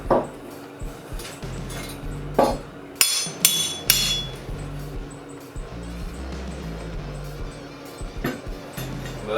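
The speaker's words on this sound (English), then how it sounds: "But I'm sure if I hit it with the hammer, it's going to fall off." Hammer blows striking a fresh weld bead on steel, several sharp metallic impacts scattered among workshop clatter and low background noise, with a dog barking and whimpering faintly at times.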